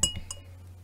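A wine glass clinks sharply a couple of times as it is picked up and handled during a peach wine tasting, bright ringing taps at the start fading over a low steady hum.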